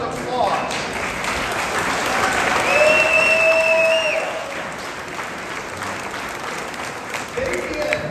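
A concert audience in the Cobblestone Ballroom applauds steadily, swelling to a loud peak in the middle before tapering off into continued clapping, with a brief whoop or whistle rising over the crowd.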